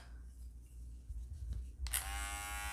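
An electric pet grooming clipper switches on near the end and runs with a loud, steady buzzing drone after a quiet, muffled stretch.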